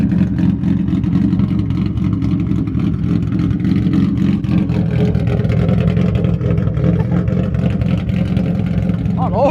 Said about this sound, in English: this is the best chop I've ever heard out of a VQ